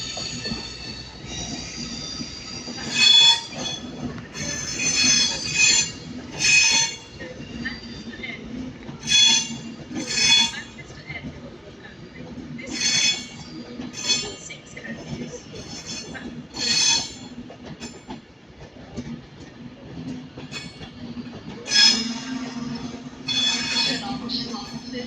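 A train rolls through Manchester Piccadilly station with wheels squealing in repeated high-pitched bursts over a low rumble, and voices can be heard faintly in the background.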